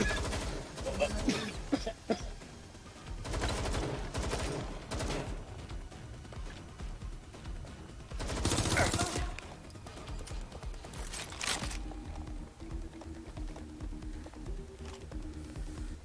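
Gunfire in the video game Watch Dogs Legion: several bursts of rapid shots crackle out in clusters, with a long loud volley near the middle and quieter game ambience and tones afterward.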